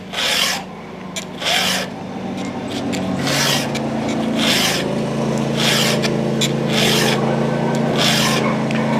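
Steady rasping strokes of a hand file sharpening the chain of a Stihl MS462 chainsaw, about eight even passes in rhythm, close and clear, over a low steady hum.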